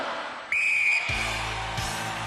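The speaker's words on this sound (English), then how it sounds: "Gail, you will go on my second whistle." A referee's whistle starts an Eliminator race on the 1993 UK Gladiators show: one sharp, loud whistle blast lasting about half a second, followed by crowd noise and thuds.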